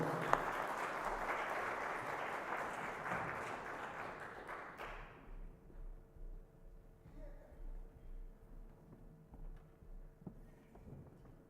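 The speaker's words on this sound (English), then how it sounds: "Give him a round of applause" Audience applause at a concert, a dense, loud burst of clapping that fills the first four or five seconds, then drops away abruptly, leaving quiet room tone and faint scattered sounds.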